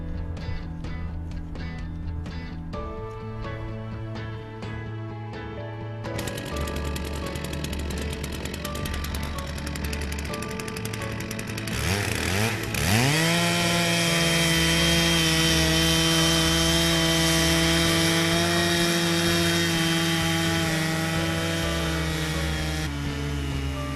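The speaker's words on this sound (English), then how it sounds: "Keep an even pressure on the chainsaw handle in order to make a straight and fine cut." A Timberjig portable chainsaw mill rips a log into 1-inch boards, the chainsaw's loud, steady whine droning on after an uneven start, with a rising pitch shift near the middle as the cut settles in.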